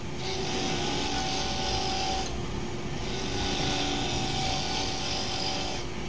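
A wood lathe spins big leaf maple at around 3,000 rpm while a spindle gouge trues the piece, giving a constant whirring hiss that dips briefly twice as the tool lifts off.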